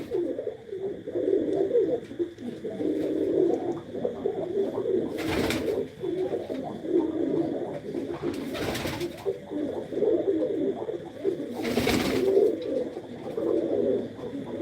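Many pigeons of the Ratta Dabba breed coo steadily inside their coop, a low continuous chorus broken three times by brief loud bursts of noise.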